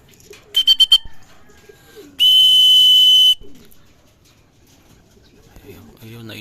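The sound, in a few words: racing pigeons arriving at the loft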